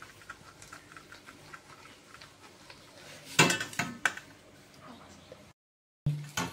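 Semolina flour being worked into ghee in a pan for karanji, heard as soft scraping and clinking of a utensil against the pan, with a louder clatter partway through and a brief silence near the end.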